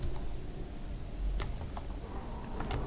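Fingers tap on a computer keyboard while typing Python code, giving a few scattered, crisp key clicks over a steady low hiss, close and fairly quiet.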